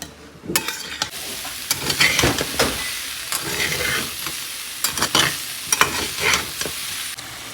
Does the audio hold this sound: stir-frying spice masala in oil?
yes